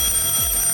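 An alarm clock rings loudly and continuously at close range for a brief moment, with no voices.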